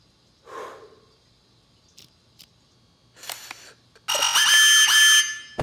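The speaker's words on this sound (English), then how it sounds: "smoke detector in the bathroom" Smoke detector in a bathroom in a video game, a loud piercing electronic alarm that blares for the last second and a half after several short clicks, thumps and rustles.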